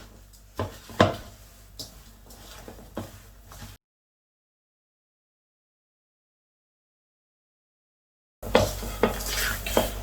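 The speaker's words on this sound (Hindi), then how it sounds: "अब हम इसको अच्छे से मिक्स करेंगे।" Potato kabab mixture with onion, cornflour, red chilli, salt and coriander gets mixed in a bowl, with close scraping and clinking of a utensil against the dish, then a gap of silence before the mixing resumes.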